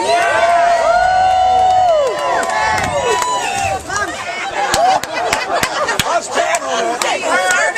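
A large outdoor crowd at a Fourth of July party cheers, whoops and yells loudly for a beauty-style contestant, a sustained roar with shouts and whistles breaking through, later thinning into scattered yells and chatter.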